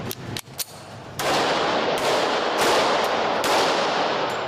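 A 3D-printed metal Browning 1911 pistol firing, a few sharp gunshot cracks followed by loud, sustained rushing noise with further bursts, close and harsh.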